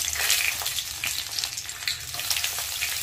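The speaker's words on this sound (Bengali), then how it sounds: "কাজুটাকেও ভালো করে একটু ভেজে নেব।" Cashews fry in hot oil in a pan, a steady close sizzle with faint crackles and pops and no voices.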